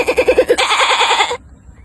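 A person imitates a goat's bleat, a loud rhythmic run of quick pulsing bleats that stretches into one longer wavering cry before cutting off abruptly.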